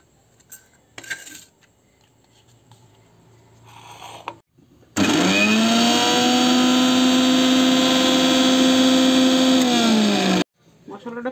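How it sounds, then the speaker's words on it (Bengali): A kitchen blender grinds garlic, ginger and onion into paste, running loud and steady for about six seconds after a few faint handling knocks, then cutting off abruptly. "পয়লা আমি রসুন, আদা আর একটু পেঁয়াজ দিয়ে অল্প একটু পিষাই নেব"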